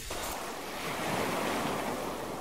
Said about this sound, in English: Look out for the waves!